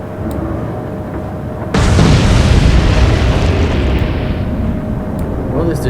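A naval gun fires with a sudden loud boom in the Atlantic Fleet naval warfare game, followed by a long roaring explosion rumble that slowly fades over several seconds, with a faint tone beneath.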